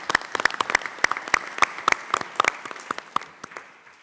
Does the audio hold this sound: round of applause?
yes